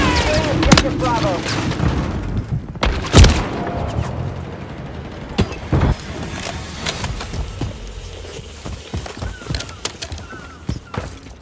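A grenade goes off during a Modern Warfare 3 beta multiplayer match on PS5, one sharp, loud blast standing out amid scattered gunshots, thuds and background battle noise.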